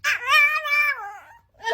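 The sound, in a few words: dog vocalizing as if saying I love you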